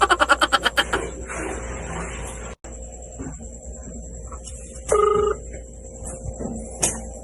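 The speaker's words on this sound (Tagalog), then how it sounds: "Tawagan natin." An outgoing phone call rings out in rapid pulsing bursts for about the first second, then fades to a quiet room with faint scattered noises.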